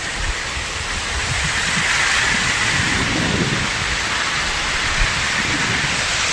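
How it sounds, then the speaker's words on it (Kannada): Heavy rain pours steadily with wind in a Tulunadu village, a dense, even hiss close by that holds for the whole stretch with no voices. "ಈಗ ಮಳೆ ಬರ್ತಾ ಉಂಟು ನೋಡಿ"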